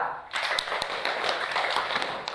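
Classroom students clapping for a presenting group, a dense patter of hand claps filling the space, close and steady after a brief quiet start.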